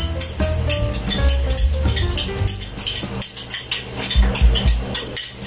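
A utensil scrapes leftover carbonara sauce out of a container, producing a run of close, uneven clinks and scrapes against the sides, fairly loud and steady, with no talking over it.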